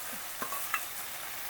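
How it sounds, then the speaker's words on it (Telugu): Ginger garlic paste fries in a hot pan with a brief, quiet sizzle and a couple of small spatters or clicks. "ఇప్పుడు కొద్దిగా అల్లం వెల్లుల్లి పేస్ట్ వేసుకుందాం ఈ టైంలో."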